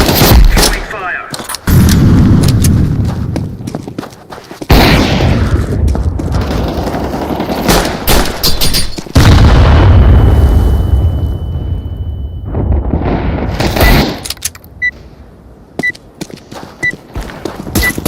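An incendiary grenade in Counter-Strike 2 bursts into a loud, roaring blaze that holds for several seconds. Sharp gunshot cracks and rumbling booms cut through it, and the roar fades to a crackle near the end.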